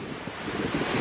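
Strong, cold wind buffets the microphone at a beach in Bang Saree, a steady roaring rumble with a surf-like wash behind it, lasting about a second with no talking.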